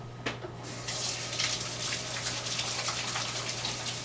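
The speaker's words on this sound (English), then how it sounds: "Now, I'm just going to rinse my hands," Running tap water splashes steadily over hands being rinsed after handling raw eggs and cookie dough, a close continuous hiss with small irregular spatters, after a brief quieter start.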